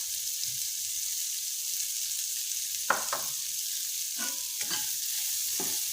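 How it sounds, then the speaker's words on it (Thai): Shrimp stir-fried with chili and plenty of green onions over very low heat, a steady soft sizzle with a few scraping stirs of the utensil in the pan, no talking. "คั่วต่อจนต้นหอมสลดนะคะ"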